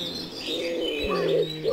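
A wood pigeon coos in soft, low, rounded notes, fairly close, with other birds chirping faintly in the background.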